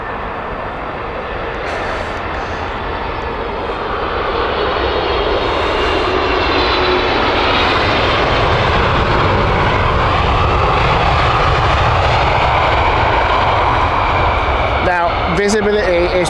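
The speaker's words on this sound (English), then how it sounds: "There is the 747 rolling" Boeing 747 rolling for takeoff at Heathrow Airport in poor visibility, its jet engines building from a strong roar to a loud, sustained, broadband rumble that lasts throughout, heard from a distance with a person talking over it.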